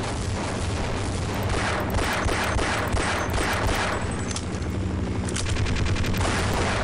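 Rapid, loud gunfire from Half-Life 1 on hard difficulty, rounds fired into the ground in dense continuous bursts with no let-up, booming impacts layered throughout.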